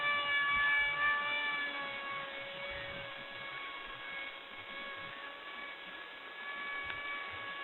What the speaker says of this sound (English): in this wind, at 2/3 throttle, it's still performing quite nicely